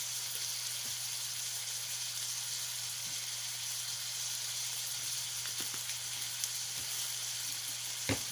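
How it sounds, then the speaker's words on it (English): Onion seasoning sizzling in a hot pan, a soft, steady frying hiss with a few faint stirring clicks near the end, quiet and close with no voices. "Give this a good stir."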